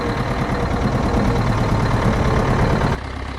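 A farm tractor engine runs steadily, a close continuous low diesel rumble that drops abruptly in level near the end.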